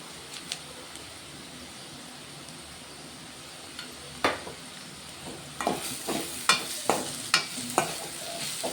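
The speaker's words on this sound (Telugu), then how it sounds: "ఇప్పుడు ఇందులోనైతే కట్ చేసుకున్న మెంతికూర వేసుకుంటున్నా" Sliced carrot, fenugreek leaves and green chilli fry in a pan under a soft steady sizzle. Midway, a spatula begins stirring, adding a run of sharp scrapes and clacks close up, with no speech.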